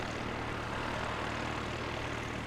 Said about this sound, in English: rescue, one of the rescue helicopters.